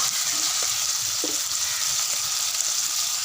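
Curry ingredients sautéing in a clay pot over a wood-fired stove, a dense, even, close sizzle and hiss that holds steady for the whole stretch, with no talk.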